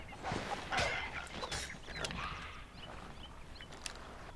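Chickens cluck in the video game Sea of Thieves, a scattered series of clucks and squawks at moderate volume with some faint background sound.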